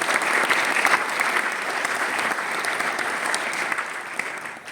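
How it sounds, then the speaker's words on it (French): An audience claps steadily throughout at a Paris Games Week 2025 press conference, a dense, sustained round of applause close by with no clear voices over it. "On peut l'applaudir"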